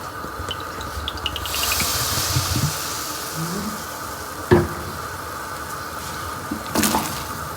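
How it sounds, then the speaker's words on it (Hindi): Onions frying in hot oil for chicken aloo keema: a quiet, continuous sizzle with clinks and scrapes of stirring, including a sharp knock midway and another near the end. "ऑयल डालने के बाद हमने इसके अंदर प्याज ऐड करनी है"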